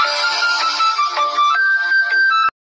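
A phone ringtone from an incoming call plays loud and close, a steady looping electronic melody that cuts off abruptly at the end, with no talking over it.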